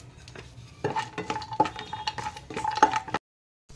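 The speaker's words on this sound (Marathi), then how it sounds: "आता मी पॅन मध्ये हे काजू भाजायला घालत आहे।" Cashews roast in a pan while a utensil stirs them, giving soft scraping and repeated metallic clinks with faint sizzling. The sound is fairly quiet and stops abruptly into near silence at the end.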